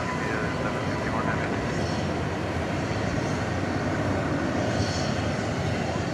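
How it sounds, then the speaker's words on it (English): An American Airlines Boeing 737-800 arriving from Tampa touches down at DFW Airport, giving a fairly faint, steady jet rumble and broadband roar from a distance with no clear peaks. "American Flight 2322, just about to touch down from Tampa, Florida"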